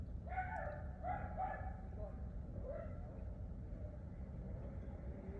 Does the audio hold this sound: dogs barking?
yes